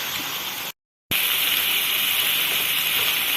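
Water from a glass poured into a pot of aloo keema, a steady gushing hiss that breaks off briefly near the start and then resumes strongly through the rest, close and alone.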